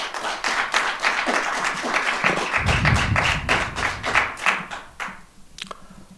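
Audience clapping at a community college board of trustees meeting, a steady patter of many hands lasting several seconds, with a low thump in the middle and the applause thinning out toward the end.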